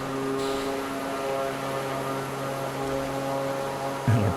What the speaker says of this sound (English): a prop that's really giving us a lot of thrust